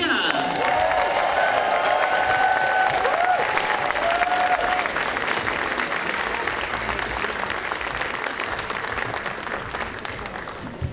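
Warm applause and some cheering from a crowd at a Democratic crab feed dinner greeting the Secretary of State, a full sustained roll of clapping that eases slightly toward the end, with faint voices mixed in.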